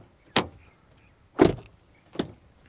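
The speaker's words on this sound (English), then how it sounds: "now let's do a quick door sound check" Doors on a 2025 Toyota Camry Hybrid shut three times in a row, each a close, solid thud with a short decay, separated by brief quiet gaps.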